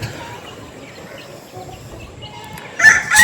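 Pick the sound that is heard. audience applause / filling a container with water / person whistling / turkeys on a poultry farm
turkeys on a poultry farm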